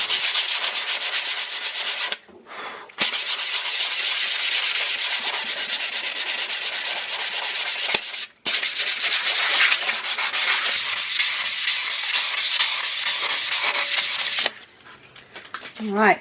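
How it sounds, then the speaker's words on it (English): Hand sanding with 150 grit sandpaper scrubs a rusty bandsaw table in a woodworking shop, producing steady, close rasping strokes that pause briefly twice before trailing off. "I'm just grabbing my off-cuttings of sandpaper and going with them."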